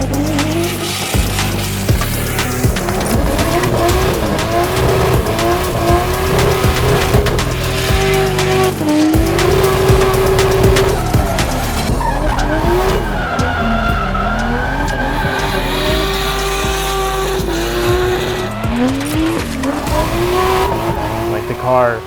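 A purpose-built drift car driven hard on a track, tires squealing in long sliding wails over a loud, steady engine roar that rises and falls throughout, with voices faintly underneath.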